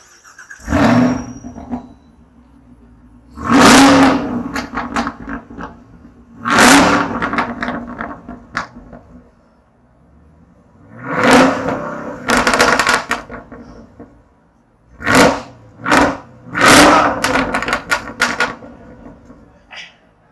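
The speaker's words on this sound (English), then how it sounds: "going to give us a demonstration of the active NPP exhaust" A 2018 Chevrolet Camaro ZL1 1LE with active exhaust revs hard in a series of loud, close bursts, each rising and falling with pauses between, heard alone outdoors.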